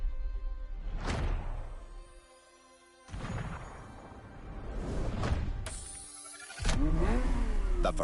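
A Ferrari F50 in the racing game The Crew Motorfest revs hard in several surging bursts with whooshing passes, then holds a loud, steady engine roar toward the end.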